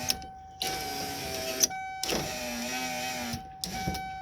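An aftermarket electric power window motor in a car runs in several whining bursts with steady tonal hum, stopping and restarting with short gaps between runs.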